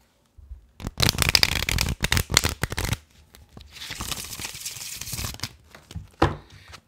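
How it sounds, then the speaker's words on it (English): Tarot cards are shuffled by hand in quick, close riffling bursts, a dense crisp flutter followed by a softer, longer run of shuffling and a final brief burst. "One last shuffle."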